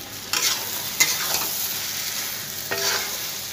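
Ghee and garam masala stirred into a pan of potol curry with katla fish roe, giving a steady close sizzle broken by three or four sharp scraping strokes of the spatula.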